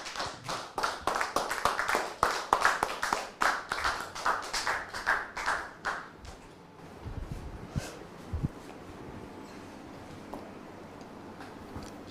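A studio audience claps in welcome as a guest arrives, a dense, lively burst of applause that fades out after about six seconds, leaving faint room noise and a few scattered taps.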